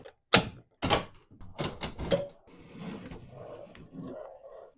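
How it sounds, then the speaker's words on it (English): A cutter scores lines around a bathroom vanity top, starting with sharp scraping strokes and settling into a softer, steady rasping, close up and with no talking. "we're going to use this cutter to cut these lines"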